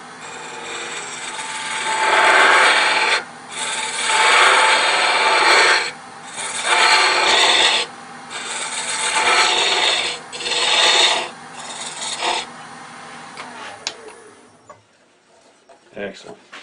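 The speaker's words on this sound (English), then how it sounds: "go back to the round scraper to get a transition at the bottom" A round scraper works a wooden mushroom box spinning on a lathe, giving loud rasping bursts of cutting, each a few seconds long, with short gaps between them before the lathe winds down.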